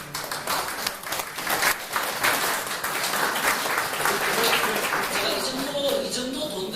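An audience at an international forum on mathematics education applauds, a sustained, even wash of clapping from many hands in a large room, slightly distant, with faint voices underneath.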